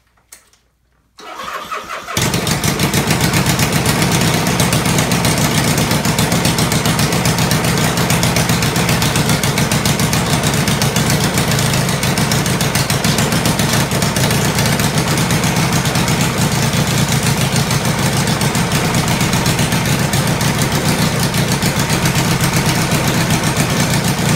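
A 1970s Honda 160 motorcycle engine with no mufflers fires after a brief crank and then idles loud and raw, a constant close rasping exhaust drone with no voices.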